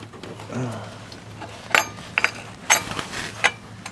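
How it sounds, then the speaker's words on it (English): Three 10mm fasteners of an OTC 6616 water pump tool are tightened into the timing chain sprocket of a 2007 Chevy Cobalt 2.2L Ecotec, heard as a few sharp metallic clicks and ratcheting ticks over low background noise. "all you do is tighten these 3 10mm fasteners into the 3 timing chain sprocket holes"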